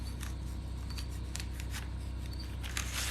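Scissors cutting fabric along a ruler edge during sewing, a series of soft crisp snips close up over a steady background hum, no talk.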